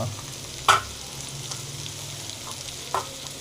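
Pirandai chutney ingredients, including dried and fresh curry leaves and coriander, fry in a pan with a steady soft sizzle, broken by a couple of sharp utensil scrapes and taps as they are stirred.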